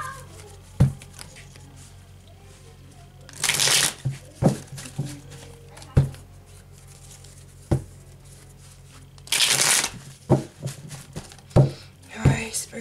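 Tarot cards riffle and shuffle in two brisk bursts amid scattered taps and thumps of cards on a surface, close up with no talking.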